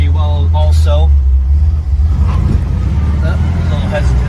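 A 1955 Chevrolet 210 rolls along under steady low engine rumble, easing down as it brakes, while people talk over it near the car.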